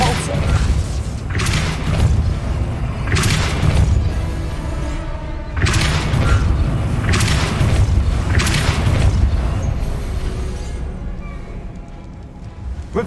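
Depulso spell being cast in the video game Hogwarts Legacy, a string of heavy booming magical blasts recurring every second or two over a steady rumbling game soundscape, with faint talk in places.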